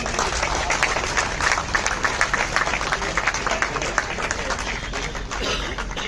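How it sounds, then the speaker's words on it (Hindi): Crowd applause at a BJP party foundation day celebration, welcoming a guest on stage: dense, steady clapping from a large audience that holds at an even level throughout. "तालियां बजाकर स्वागत करो भाई"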